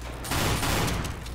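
A double-barrel shotgun fires in the video game Team Fortress 2, a loud burst of blast noise lasting about a second, with no talking.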